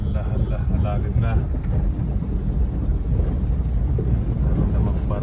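A car pushes through deep flood water in Malanday, Valenzuela, with waves surging against it: a continuous rumbling wash and wind-like roar close to the microphone, with people talking over it.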